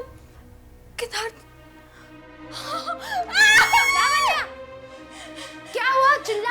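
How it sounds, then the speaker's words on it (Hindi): A woman screams in a horror drama scene, with loud strained cries in bursts near the middle and again at the end, mixed among voices and whimpering. "चिल्ला क्यों रही हो?"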